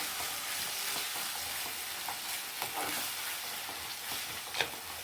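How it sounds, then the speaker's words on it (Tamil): Dry-roasted ground spices sizzle and crackle softly in a hot pan for crab curry, with faint scraping from stirring and an occasional sharper pop. "நல்லா வதக்கலாம்."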